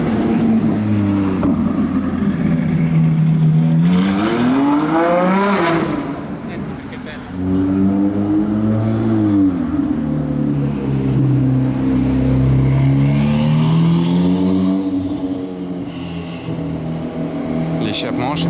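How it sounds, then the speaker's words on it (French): A Ferrari Daytona SP3 fitted with a Novitec exhaust revs hard and close, its engine note sweeping up and down through several long rising and falling pulls with a brief dip midway, loud and continuous. "Elle a aussi un échappement Novitec."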